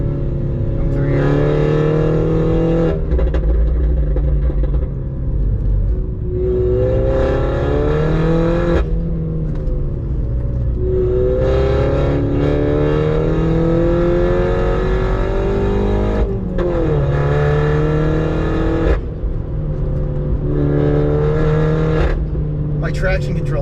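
Stage 2 Mini F56 driven hard on a canyon road, engine repeatedly revving up and dropping through gear changes with a rising whine, loud and close, with someone talking over it.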